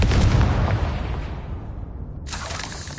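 A Confringo blasting spell from Hogwarts Legacy going off as a loud, dense explosive roar with crackling debris, fading slightly before a second bright burst kicks in near the end.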